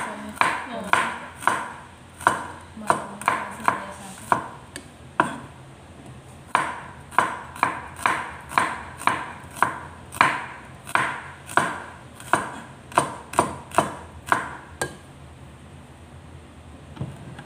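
An onion is chopped on a board in a steady run of sharp knife strikes, close and crisp. The strikes come in quick bursts with brief pauses between them.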